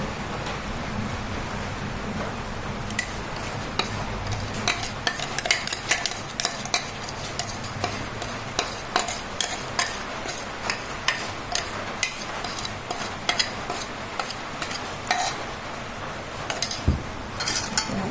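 A spoon stirring chocolate cake mixture in a pot, with repeated scraping and light clinking taps against the metal at an uneven rhythm, close and steady throughout.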